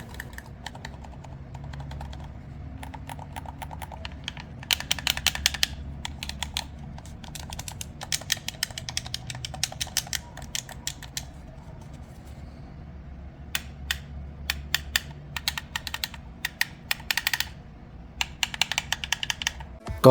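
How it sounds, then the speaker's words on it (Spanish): Xbox Series X controller, with buttons clicking in quick irregular bursts and joysticks moving with a hollow sound, close and fairly loud, set against a low steady background hum and no talk. "realmente los botones sí que hacen bastante ruido y a la hora de mover los joysticks hace un sonido bastante hueco"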